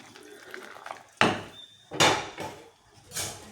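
Spice masala being stirred in a cooking pot, with a few sharp scraping clatters of a spoon against the metal, close up and fairly quiet.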